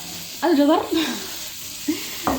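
Chicken filling for batbout, seasoned shawarma-style with carrots, sizzles steadily in a pan, a continuous hiss with a couple of brief vocal sounds over it.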